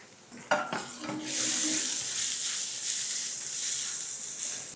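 Chopped onion, carrot and other vegetables sizzle steadily in a hot pan, with a few clinks and scrapes of a utensil stirring at the start.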